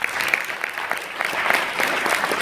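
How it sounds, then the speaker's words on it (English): An audience at a conference claps after a talk, a dense, steady applause that fills the whole stretch without pause. "Big round of applause for Thomas there."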